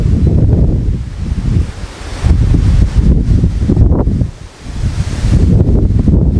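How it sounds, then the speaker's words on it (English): Strong gusts rush through trees and shrubbery in Arkwright, New York, a loud, surging roar of rustling leaves and wind buffeting the microphone, easing briefly between gusts. "the sound of the trees and the shrubbery blowing in the wind"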